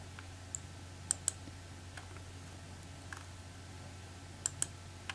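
Several sharp, quiet computer mouse clicks, single and in quick pairs, spaced irregularly over a steady low electrical hum with no talking.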